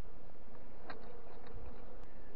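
Honey bees buzz steadily during a beehive removal in Plainview, Texas, as comb is cut out; the hum is faint and continuous, with no talking.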